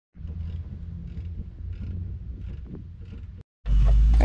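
Mechanical clicking and scraping from loosening a shock bolt on a 2007 Ford Mustang V6, steady for about three seconds. After a short pause a loud, dense burst of noise follows, close to the listener.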